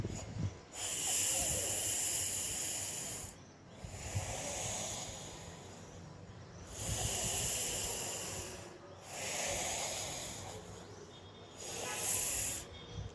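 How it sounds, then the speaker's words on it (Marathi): Sharp hissing breaths forced through the teeth, four long broadband rushes of air spaced a few seconds apart, each with quieter breathing in between. "दोन्ही दातांच्यामध्ये फटीमधून आपल्याला असा आवाज काढत हे करायचा आहे"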